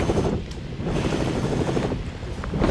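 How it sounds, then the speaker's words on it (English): A video game helicopter chops and whirs steadily in the foreground, holding a constant mechanical drone through the moment with no voices. "Bring the chopper."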